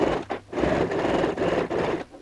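Sewing machine stitching a half-inch seam on a magazine-print fabric handbag, a close, steady motor whir running in short bursts with brief pauses between runs.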